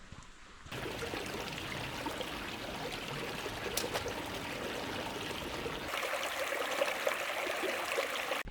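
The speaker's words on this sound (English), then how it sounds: "Back to the little creek." A small creek in Zion National Park flows steadily with a soft, continuous trickle and splash, moderately close and alone.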